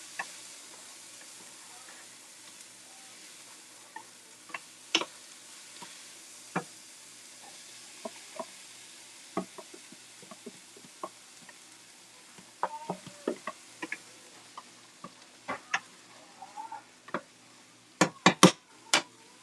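Meat browning in a frying pan, a faint steady sizzle with scattered sharp pops and crackles that cluster more densely near the end, close and without talk.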